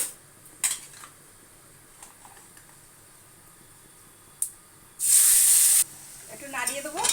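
Marinated mutton pieces drop into hot oil spiced with garam masala, giving a sudden loud burst of hissing that eases into steady sizzling, after a few light metallic clinks of utensils against the pan.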